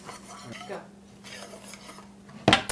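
A metal whisk beats ingredients together in a kitchen mixing bowl, with light clinks and scrapes against the sides and one sharp, louder clatter near the end.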